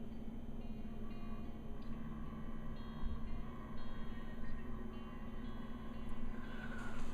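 An HO scale Kato CSX SD70MAC model locomotive creeps along at its slowest speed, giving off a steady, quiet motor hum with faint whirring and light clicking that stays even throughout.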